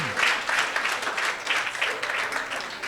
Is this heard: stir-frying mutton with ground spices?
no